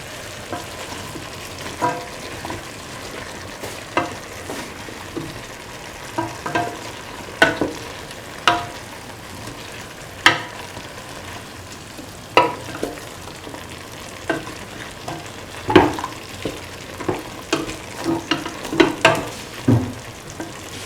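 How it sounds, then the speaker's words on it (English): Beef and bottle gourd stew stirred in a pan, with a spoon scraping and clacking in irregular strokes over a soft, steady sizzle, close and clear with no voices. "Thoroughly mix."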